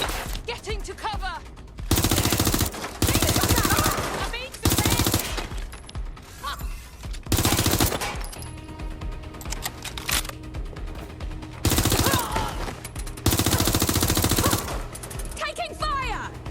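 Automatic gunfire rattles in Watch Dogs Legion on PS5, coming in several loud, dense bursts of a second or two each, separated by quieter stretches of background game sound.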